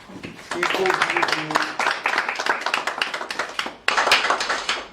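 An audience claps for the winners of a photography contest in Cape Verde, irregular hand claps in a dense burst with a voice briefly heard underneath.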